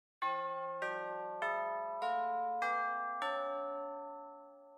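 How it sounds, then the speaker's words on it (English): Six tuned church bells strike one after another in a descending sequence, each ring overlapping the last and sustaining into a long, resonant decay. "Now the bells are tuned like this."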